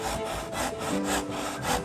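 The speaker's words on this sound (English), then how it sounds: "With this beautiful drill rasp" Drill rasp shaping wood for a butterfly carving, repeated rhythmic rasping strokes about four per second, close and scratchy.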